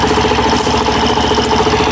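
Suzuki Burgman Street scooter engine idling steadily as it warms up, a close, continuous mechanical hum with a fine rattling texture and no break over the full stretch.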